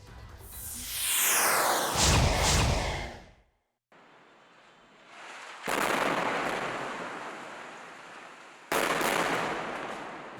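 Israeli airstrike bombing and gunfire in Gaza: a loud rushing roar that falls away, then abrupt bursts of dense, crackling blast noise in separate cut segments.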